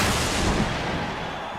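A loud explosion in a video game American football match, a sustained broadband roar filling the short clip without voices.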